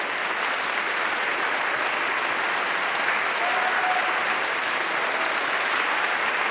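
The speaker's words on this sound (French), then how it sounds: "je voudrais que vous applaudissiez Alexandre Mazel" Steady, dense applause from a seated audience at a French round-table event on robots, continuous and even throughout with no voices standing out.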